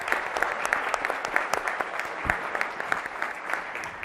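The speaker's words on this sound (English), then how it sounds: "Can we get a big round of applause for the Chancellor" A school audience applauds at an evening event with a chancellor, a steady round of clapping at moderate level that continues for several seconds with a few individual claps standing out.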